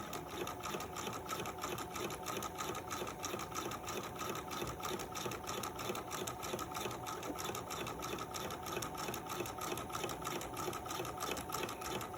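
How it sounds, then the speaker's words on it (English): A sewing machine runs a continuous gathering row of stitches along an earlier stitch line in fabric, producing a steady rapid mechanical whirr and needle chatter at constant speed throughout, close and unbroken. "we're going to stitch again right along the same line as we did our first row of stitches"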